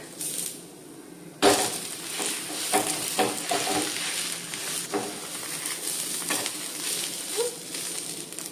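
A chilla crackles and sizzles in oil on a pan at home, with a soft steady fry broken by a sharp clatter and scraping from the spatula, close and fairly quiet.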